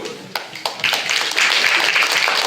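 At a school patriotic contest, an audience claps for the first contestant, starting with a few scattered claps and swelling into steady, dense applause from the crowd.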